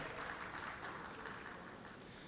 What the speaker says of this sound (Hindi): जोरदार तालियां डॉक्टर सुभाष चंद्रा और अजय देवगन के लिए, जोरदार तालियां